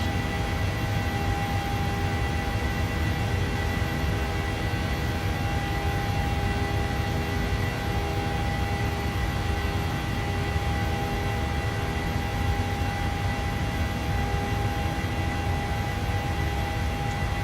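Steady aircraft engine drone from Microsoft Flight Simulator 2020, a flight out of Phoenix, a continuous even roar with a low rumble and a constant hum that does not change across the whole stretch.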